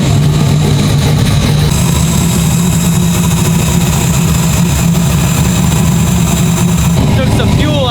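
Turbocharged Chevrolet Nova engine idling rough and loud just after its first start, a steady low rumble with a slight rev rise near the end, running continuously close by.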